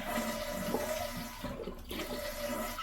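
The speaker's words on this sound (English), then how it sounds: "after you turn that valve off, you want to flush the toilet" Household toilet being flushed after its supply valve is shut off during a running-toilet repair with a Korky flapper, a steady close rush of swirling water draining down, with no talking.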